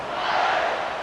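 In College Football 26, a packed stadium crowd roars in a dense, continuous cheer at a kickoff, loud and sustained across the whole moment with no separate voices standing out.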